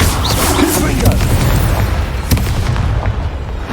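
Confringo blasting spell explosion in Hogwarts Legacy, a loud booming blast with rumbling debris that fades out over a few seconds.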